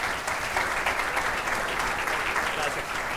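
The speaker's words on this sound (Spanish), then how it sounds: "a quien recibimos con un fuerte aplauso" Steady audience applause at a national industry anniversary event welcomes a speaker to the podium, a continuous wash of many hands clapping at moderate distance.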